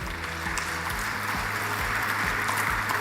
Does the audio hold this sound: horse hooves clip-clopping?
no